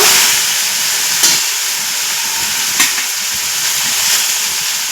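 Chopped jute greens land in hot oil with fried onion and set off a loud, steady, hissing sizzle, with a couple of brief clinks from a utensil.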